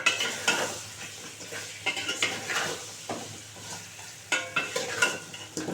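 A spoon scrapes and stirs five whole washed eggplants in a pan, giving irregular soft scraping strokes with faint sizzling underneath, close and fairly quiet.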